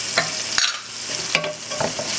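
Minced garlic and onions fry in a pot over raised heat as a spoon stirs them, a close sizzle punctuated by several sharp scraping knocks against the pot, with no speech.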